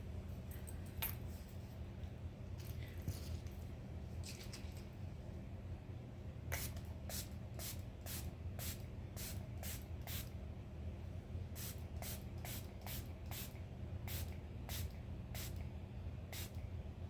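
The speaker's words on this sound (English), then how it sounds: "Make It Last setting spray." Make It Last setting spray fires as a string of quick, crisp misting pumps, one burst at first and then two close clusters of rapid spritzes, close by and fairly quiet over a low room hum.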